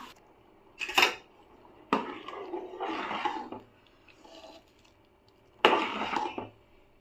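A metal lid clanks onto a pot of chicken fry piece biryani, with a couple of sharp clinks and some rattling and shuffling in a quiet kitchen.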